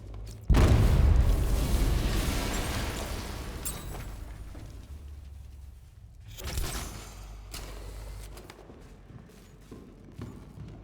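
A detonated explosion in the video game Batman Arkham Knight, a sudden heavy boom that hits hard and then rumbles and decays over several seconds, followed by a smaller secondary burst.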